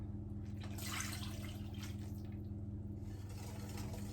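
Water pours into vegan chocolate brownie batter as a soft, brief splashing burst over a low, steady background hum, quiet throughout.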